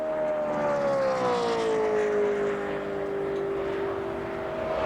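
A restrictor-plate stock car engine at Talladega on a 2004 qualifying lap, a loud steady roar with a slowly falling pitch as the car runs past at speed.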